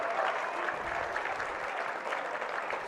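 A crowd at a boys' high school basketball game between Waupun and Columbus claps and cheers steadily, a dense, continuous wash of applause with scattered shouts throughout.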